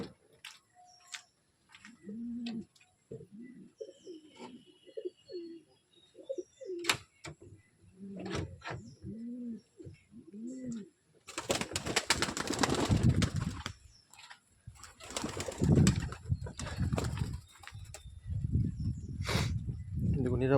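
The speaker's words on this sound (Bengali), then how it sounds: "তো বন্ধুরা, পায়রাগুলোকে এখন ছেড়ে দেবো।" Pigeons in a loft coo in low, bubbling phrases close by, then wings flap and clatter in loud bursts as the birds are let out; a person talks over part of it.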